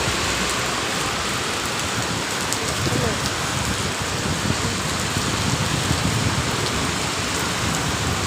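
Heavy rain pours down in Dubai, a steady dense hiss of drops striking surfaces that stays loud and unbroken throughout, with no voices.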